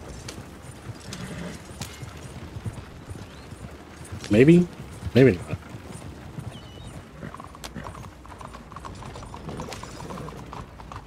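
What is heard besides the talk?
horse hooves pulling a wagon in Red Dead Redemption 2 video game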